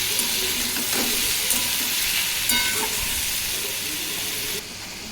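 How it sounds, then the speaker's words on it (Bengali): Ridge gourd and potatoes fry in a pan with whole poppy seeds scattered on top, making a loud, continuous close sizzle and hiss with occasional stirring scrapes, alone and without talk. "বেশ কিছুক্ষণ ঝিঙেটা একটু ভাজা ভাজা মতো করে নেব"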